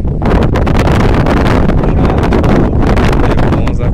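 Strong wind buffets the microphone outdoors at a crop field, a loud, continuous roar with rapid gusting bursts throughout.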